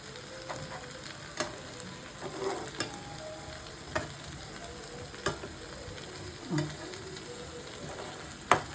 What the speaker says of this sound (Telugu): ఇలా మాడకుండా కొంచెం కదిలిస్తా ఉంటే చాలు